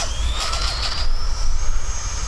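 Electric RC plane heavily loaded on landing approach, motor whine rising as throttle is added over the runway threshold, a steady high-pitched buzz with slight pitch swells, near and alone.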